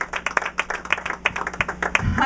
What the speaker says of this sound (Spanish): Dale otro aplauso al Rey de Reyes.